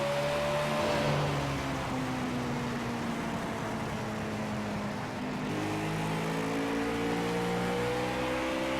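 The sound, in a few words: race car engines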